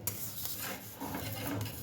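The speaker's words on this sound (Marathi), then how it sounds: "आता अगदी हलक्या हातानं उलटनं लावायचं आणि कड सोडवून घ्यायची" A metal spatula scrapes around the edges of a bhakri flatbread on a hot griddle, giving a close, continuous gritty rasp for about two seconds with no talking.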